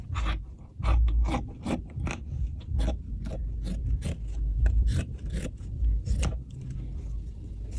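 Scissors cutting through fabric for a three-tier detachable flared skirt, a steady series of crisp rasping snips with a low rustle of cloth in between, close and alone.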